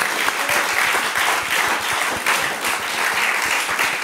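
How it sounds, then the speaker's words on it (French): Steady applause from a podcast audience fills the whole stretch, dense and loud, with many hands clapping together and no voices on top. "Je pense qu'on peut les applaudir."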